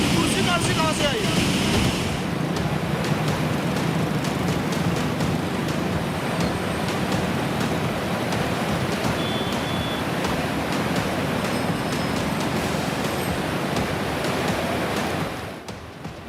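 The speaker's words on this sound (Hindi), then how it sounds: "तूफानी लहरों का कहर, नदी में समाई इमारत।" Stormy floodwater surges through a river in heavy flooding, a continuous loud broadband rush of churning water with wind, fading near the end.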